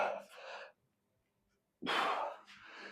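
A person exercising during injury recovery lets out two heavy, breathy sighs and gasps, separated by a brief silence, close and loud.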